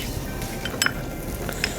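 Afghani chicken tikka pieces cooking in their own fat give a steady close sizzle and crackle, with a few light metallic clinks of utensils over it.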